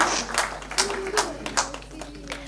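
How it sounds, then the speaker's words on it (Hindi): Scattered audience clapping for artist Nikhat Ansari at an art exhibition inauguration and award ceremony, a few distinct claps spaced through a brief moment with a faint voice murmuring underneath. "निखत अंसारी, आपकी तालियां बजती रहनी चाहिए।"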